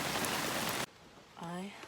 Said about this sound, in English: It be raining!